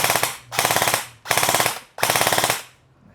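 An ENC 102 HK416 airsoft rifle fires four quick full-auto bursts, each a rapid, loud, buzzing string of shots lasting about half a second, separated by brief gaps, close and with no voices.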